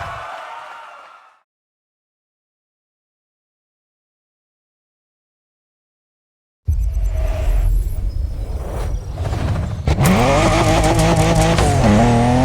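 A car drifting in The Crew Motorfest, tires squealing and engine revving loudly and steadily after a brief faint opening and a long silence.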